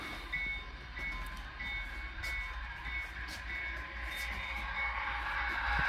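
A model train backs out onto a layout, a faint steady mechanical hum and rolling rumble with a thin electric whine and a few light clicks, quiet throughout with no talk.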